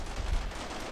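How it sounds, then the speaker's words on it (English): In a turn-based PvP shooter video game, a soldier fires what may be an M16 in a brief, muffled burst of gunfire, heard close without talk. "He runs up to try and shoot them."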